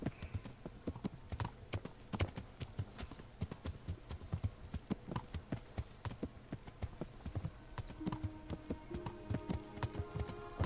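A horse ridden in the medieval video game Kingdom Come gives a steady, rhythmic clip-clop of hooves that runs throughout, close and moderately loud, with a faint tonal hum in the background late on and no talking.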